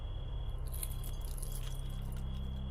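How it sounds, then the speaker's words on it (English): A ring of keys jingles and clinks steadily as it is flipped through, a close metallic rattle over a low steady hum, with no voices. "I flipped through keys until I found the right pair"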